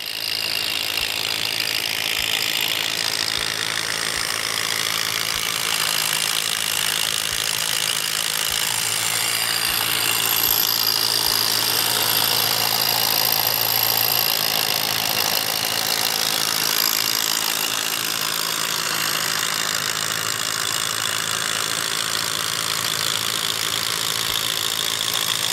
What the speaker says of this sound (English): We are able to power utility lights and our rock drill at the same time